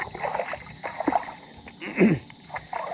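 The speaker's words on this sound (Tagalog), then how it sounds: "habang naghugas kami ng paa" Water splashes as feet are washed at an outdoor water source near rice fields: a few light, uneven splashes and gurgles, with a voice briefly heard.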